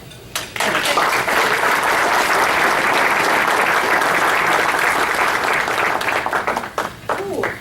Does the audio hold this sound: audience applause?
yes